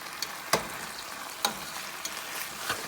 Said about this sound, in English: the chicken has been sauteing or frying for about 10 minutes